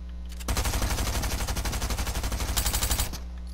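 A machine pistol in a video game fires one fast sustained burst of about twenty shots, loud and close, with rapid even pops lasting nearly three seconds and then stopping abruptly.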